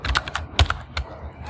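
Quick, uneven bursts of keystrokes on a computer keyboard, several crisp clicks in a row with short pauses between them, close and fairly clear with no talking.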